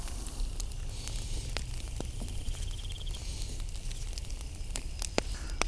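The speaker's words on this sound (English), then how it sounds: "I'll put some jalapenos in our fire, just directly on the fire." Jalapeños roasting directly on an open cooking fire outdoors, with faint steady crackle and soft sizzling, scattered small pops and ticks over a low rumble of flame.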